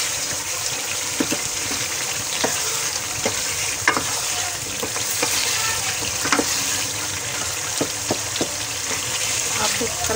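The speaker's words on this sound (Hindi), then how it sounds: "फिर अब हम इसकी भुनाई कर रहे हैं।" Aloo gosht, a potato and meat curry, frying and being stirred in a pan: a steady sizzle throughout with repeated scraping clicks of a spoon against the pot, close and fairly loud, no voices.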